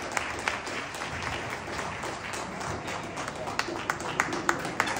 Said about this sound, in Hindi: जोरदार तालियां मैडम के लिए